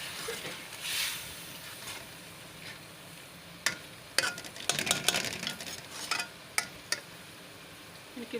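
Onion, tomato paste and garlic-ginger paste frying in a pan, a soft steady sizzle broken by sharp scraping clicks of a spoon stirring, growing busier toward the end, no voices.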